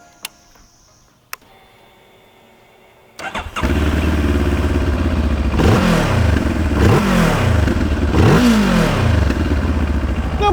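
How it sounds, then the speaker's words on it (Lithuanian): A red Moto Morini X-Cape 700 with a CFMoto-derived engine starts after a few sharp clicks, settles into a close, loud idle, then revs three times in quick, rising-and-falling bursts; no talking. "prieš tai paklausykime, kaip šis motociklas skamba"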